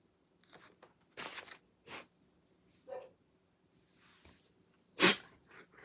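A few short sniffs and snorts lead up to a sharp, close sneeze near the end, with quiet breathing sounds in between.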